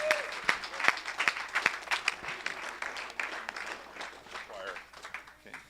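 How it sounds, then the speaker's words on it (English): Audience applause at a 2014 auctioneering college graduation, a burst of sharp claps that thins out over several seconds, with voices and a few whoops mixed in. "How about a round of applause for this good man?"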